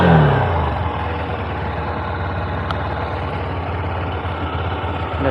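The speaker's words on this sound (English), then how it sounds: "So let me rev it a bit." A Honda Hornet 2.0 motorcycle engine idles with a steady throb after an initial rev that quickly settles, loud and close, no one talking.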